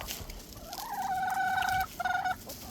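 A backyard hen gives a drawn-out, wavering vocal call in two phrases, moderately close and fairly quiet, with no one talking.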